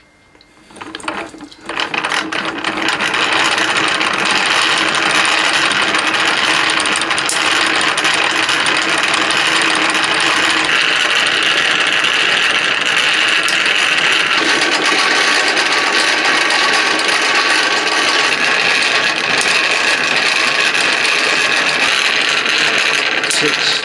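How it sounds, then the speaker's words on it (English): A hand-cranked coil winder winds wire onto a home-made choke, giving a loud, continuous ratcheting whir of gears that starts after a brief pause and runs steadily throughout. "cranking this handle, and when this gets round to 364, we stop."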